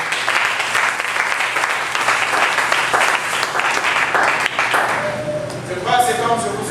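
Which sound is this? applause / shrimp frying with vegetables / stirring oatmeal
applause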